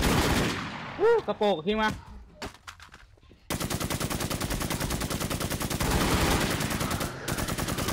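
Gunfire in the video game WarZ: after a few sharp shots and brief rising tones, a sustained rapid automatic burst rattles on loudly for several seconds, with a short spoken remark near the start.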